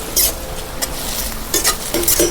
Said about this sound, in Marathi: हलवून घेते परत